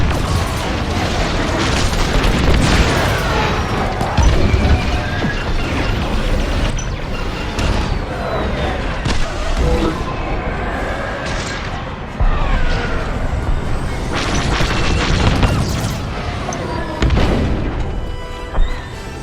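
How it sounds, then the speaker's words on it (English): Enemy bombers blowing apart in a Star Wars Squadrons space battle: dense, loud, continuous rumbling booms and crashing blasts layered over engine roar and mechanical clatter, with repeated heavy impacts throughout. "All bombers destroyed."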